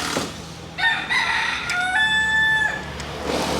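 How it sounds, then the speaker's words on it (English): Rooster on a road in Key West crows loudly nearby, one long drawn-out call with rising and falling pitch, no talking. "It's just a chicken on the road, screaming at people."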